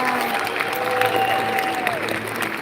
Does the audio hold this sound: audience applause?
yes